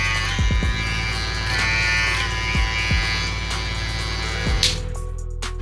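A Jucai Pro DemonEye runs with a steady, quiet electric motor hum and buzz, close to the listener, broken by a few faint clicks. No talking.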